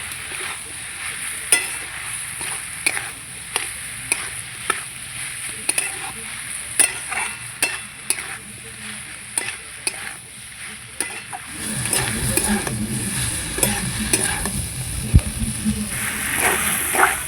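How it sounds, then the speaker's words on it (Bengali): Spiced potatoes and spring onions with dried fish are stirred and sautéed in a pan, a spatula scraping in a steady rhythm over a constant frying sizzle that grows louder and more crackling toward the end. "ভালো করে নেড়ে চেড়ে কষিয়ে নেব।"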